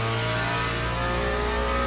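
Ford Mustang GT3 race car engine revving steadily and loudly in a racing video game, a sustained harmonic drone with no talk.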